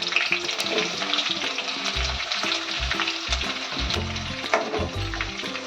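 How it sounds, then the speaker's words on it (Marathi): Curry leaves hitting hot oil, a strong close crackle and sputter of sizzling with a low hum and a few clinks running throughout. "आता कढीपत्त्याची पानं टाकते ते टाकून घ्यायचं"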